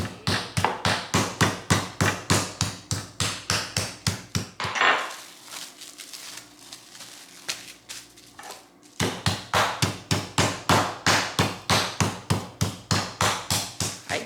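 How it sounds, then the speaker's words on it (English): A mallet pounds a cut chicken breast flat between sheets of plastic wrap in a steady rhythm of many close, sharp thuds, which pause briefly in the middle and then resume. "I'm going to flatten it a little bit with my mallet"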